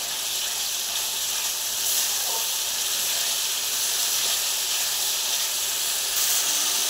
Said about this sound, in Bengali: মশলাটা খুব ভালোভাবে নাড়িয়ে নাড়িয়ে কষে নেব